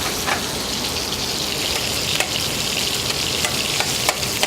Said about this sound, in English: now I'm going to take the couscous and add it to it